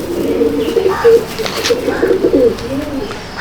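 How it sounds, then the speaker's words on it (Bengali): Madrasi pigeons coo in soft, close, rolling phrases, several overlapping throaty calls repeating steadily with little pause. "এই সেই পায়রা।"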